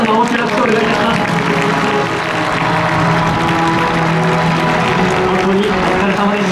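A large crowd in the Tokyo Racecourse paddock applauds steadily at the retirement ceremony of the racehorse Contrail, a thick, continuous wash of clapping that stays loud from start to finish.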